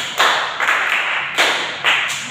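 Rhythmic hand claps in a classroom clapping game, five sharp broadband claps spaced roughly half a second apart, close and fairly loud with no talk over them.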